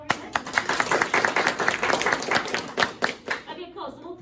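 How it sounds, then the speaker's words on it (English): Clapping from a small group gathered for a casual session, scattered hand claps over about four seconds that taper off at the end, with voices talking underneath. "Can we give a clap over that?"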